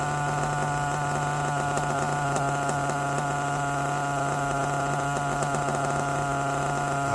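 A nitro engine on an RC car idles near and steady, a buzzy drone with a fast, even putter that holds for the whole stretch.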